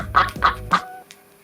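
A duck quacks three times in quick succession, close and clear with no other sound around it, followed by a brief faint trailing call.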